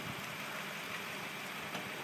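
A car engine idles with a steady, rough exhaust rumble, heard from moderately close and fairly quiet, without any talking.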